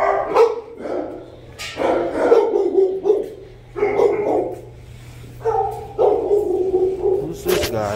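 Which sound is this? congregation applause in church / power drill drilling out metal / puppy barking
puppy barking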